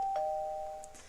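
A Minecraft furniture mod doorbell, made from a note block and a button, gives a single clear electronic chime that holds steadily for about a second, followed by a faint click.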